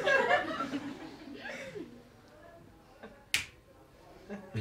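A single crisp finger snap rings out during a Czech stage mentalism show, one sharp click after a stretch of speech and light chuckling.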